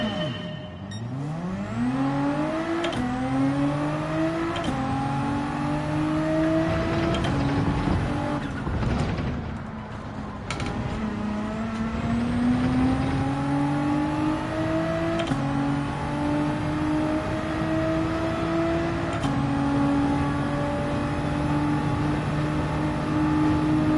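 Nissan GT-R and Lamborghini Huracan engines race in Gran Turismo 7, loud and continuous, with repeated rising revs through the gears, each shift cutting in, over a steady roar for the whole stretch.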